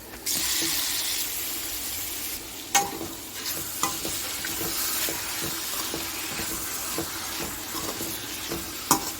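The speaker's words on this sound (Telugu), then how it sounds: "ఇప్పుడు నీట్గా వాష్ చేసి పెట్టుకున్న చికెన్ని యాడ్ చేసేద్దాం" Washed raw chicken goes into a sizzling chicken curry pot with turmeric for Bagara rice, setting off loud steady frying hiss while a spoon scrapes and stirs in repeated knocks, with no voices.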